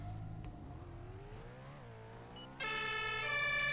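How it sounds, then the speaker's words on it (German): A synthetic emergency vehicle siren in the Roblox game Notruf Hamburg wails steadily over a low engine drone, then switches abruptly to a brighter, higher-pitched siren tone. "Ups, falsche Sirene."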